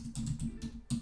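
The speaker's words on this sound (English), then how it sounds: "You can put these in by simply typing" Keys are tapped on a computer keyboard in a design-software session, a few soft, irregular clicks close by over a low steady background, with no voices.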